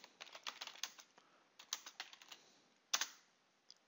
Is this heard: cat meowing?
no